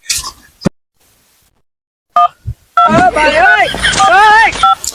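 Short electronic keypad tones from a mobile phone being dialed ring out in two brief beeps, near and clear, with someone talking loudly between them.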